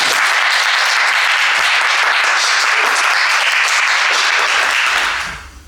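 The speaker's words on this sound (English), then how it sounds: "a round of applause." An audience at an artists' talk for an exhibition applauds to welcome the artists: a full, steady, close round of clapping that holds for about five seconds before cutting off.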